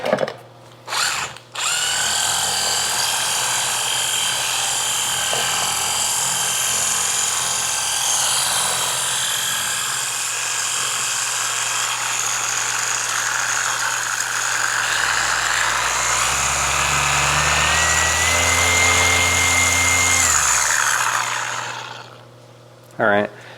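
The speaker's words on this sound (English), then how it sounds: "Let's try it out in the pad washer." A Rupes HLR75 3-inch cordless polisher runs in a pad washer with a loud, steady, close whirring drone for about twenty seconds, its pitch shifting and dropping toward the end before it stops.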